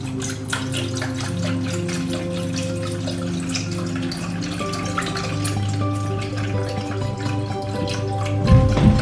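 Vegetable broth pours into a pot for collard greens, a continuous close liquid gush and splash over a low steady hum, swelling briefly near the end, with no talk.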